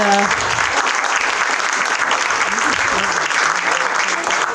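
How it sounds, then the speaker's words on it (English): Sustained audience applause for a fishing panel at an evening event, dense and steady across the whole stretch, with a brief voice at the very start and scattered voices beneath. "Please give yourselves a round of applause and a round of applause for our panel"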